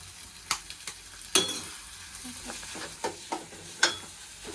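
Eggs for egg bhurji fry and sizzle softly in a pan while a spatula stirs, giving sharp scraping clicks at irregular intervals over a quiet, steady hiss.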